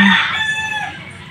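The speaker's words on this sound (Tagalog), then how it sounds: "napakaraming manok ang sabong dito sa amin ngayon" A rooster crows loudly and close by, one long drawn-out call that trails off, with no talking, in a place with many fighting cocks.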